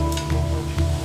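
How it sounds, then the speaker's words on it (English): A corn tortilla sizzling as it is dipped in hot oil, a steady close crackle and hiss with a low hum beneath it. "I'm going to dip this corn tortilla in this hot oil. It'll start to sizzle."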